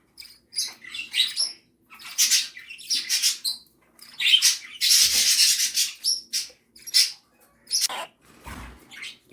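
Turquoisine parakeets and baby Bourke parakeets chirp in short, rapid bursts of high, scratchy tweets, close up and fairly loud, with brief gaps between flurries and no talking.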